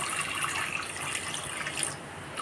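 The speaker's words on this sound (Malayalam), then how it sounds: "ഇനി പരിപ്പ് വേവാനുള്ള ആവശ്യത്തിനുള്ള വെള്ളം ഒഴിച്ചു കൊടുക്കാം" Water is poured in a steady, continuous gush into a pressure cooker holding lentils with a green chilli and curry leaves, close and fairly loud with no talk.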